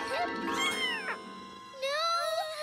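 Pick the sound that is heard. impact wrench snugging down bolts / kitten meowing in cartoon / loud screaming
kitten meowing in cartoon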